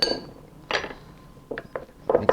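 A spoon clinks against a mixing bowl while butter and egg white are worked into batter for cigarette russe and tuiles, giving several sharp, bright clinks in irregular clusters with quiet gaps between.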